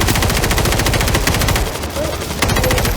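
Rapid automatic gunfire in World War Z Horde Mode during a large zombie attack, loud and dense sustained bursts close up, with a short dip before the firing resumes.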